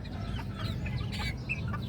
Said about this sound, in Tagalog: Yung isang manok na to.